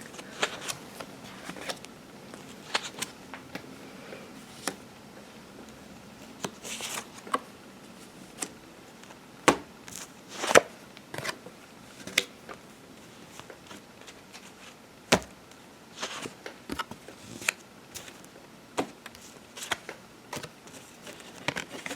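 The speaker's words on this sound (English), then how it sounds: "now I'm going to lay out the cards" Tarot cards are laid out on a table during a reading, producing scattered soft slaps, taps and rustles at irregular intervals. The handling is close but quiet, with pauses between the sharper card placements.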